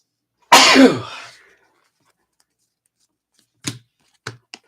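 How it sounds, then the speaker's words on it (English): A single loud, close sneeze bursts out during a baseball card break, followed by a few faint, brief clicks and rustles in otherwise quiet surroundings. "you hear me sneezing"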